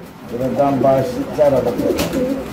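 Pigeons coo softly in low, rolling bursts close by, with people talking over them.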